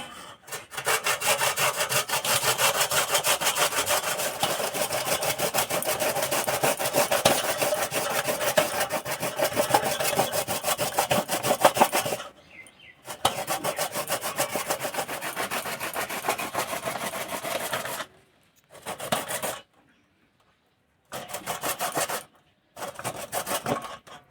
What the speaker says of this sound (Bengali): এখানে একটা ফুটো থালা নিয়েছি এবার পিপিগুলোকে কুঁড়ে নেবো